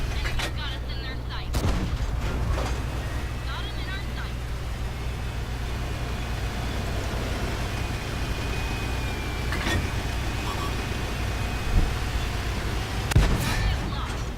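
A tank cannon in a video game fires a few sharp, booming shots spaced several seconds apart over a constant engine rumble, while a player talks over the action.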